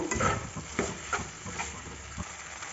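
Boiled vermicelli (semiya) gets stirred in a pan for egg semiya, with repeated soft scraping strokes of a spoon over a faint sizzle, close and fairly quiet.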